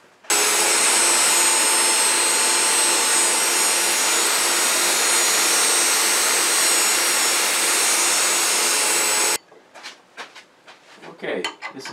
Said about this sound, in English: I'll go ahead and sand that up